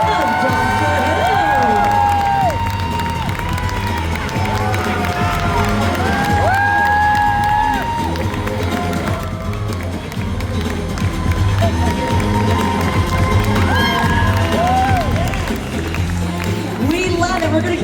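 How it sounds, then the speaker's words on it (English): A large convention crowd at a Doctor Who comic con cheers, shouts and applauds steadily for the whole stretch, loud and dense, with music and scattered voices mixed through the noise. "please keep your applause going for Magic Gill and Jodie Whittaker of Doctor"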